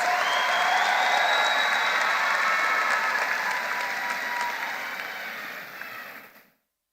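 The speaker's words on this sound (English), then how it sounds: "Let's give all of these outstanding seniors a round of applause for their academic excellence." High school graduation audience applauding seniors in a large hall, a sustained burst of crowd clapping that gradually thins and then cuts off abruptly.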